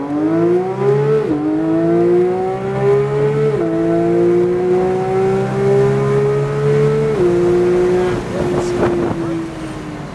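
A Porsche 911 GT3 accelerates hard down a straightaway, its engine note climbing loud and close through several gear shifts with brief dips between them, wind rushing over the microphone.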